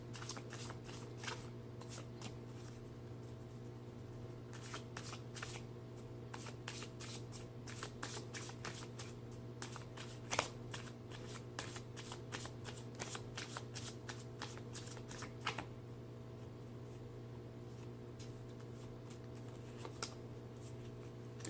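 Tarot cards shuffled by hand, a steady run of soft riffling and flicking close by with a few sharper card snaps, quiet and alone over a low background hum.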